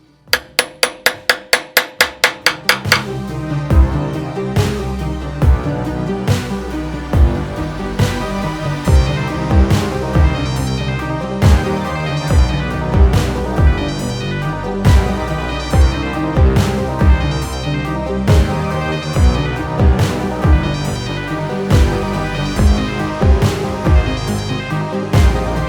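Hammers shaping the base of an arcade machine: a quick burst of sharp metallic strikes, then a steady stream of loud, ringing hammer blows that repeat at an uneven rhythm, close up and with no talking.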